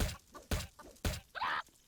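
Chickens clucking in the Roblox survival game 99 Nights in the Forest, a few short separate calls followed by a brighter squawk, close and clear with no talk over them.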